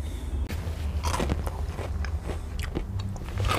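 Crunchy cream-filled wafer cake from a Kuchenmeister package being bitten and chewed up close, several sharp crackling crunches spread irregularly over a few seconds with no talking.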